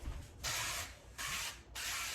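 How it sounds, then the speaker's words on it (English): Cooking spray hisses from a can into a casserole dish in two or three close, loud bursts, each about half a second long, separated by brief pauses. "I'm gonna go ahead and spray it with some cooking spray."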